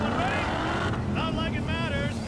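A steady car engine drone in the racing game Cyberpunk 2077 fills the clip, with rising and falling whining tones layered over a constant rumble.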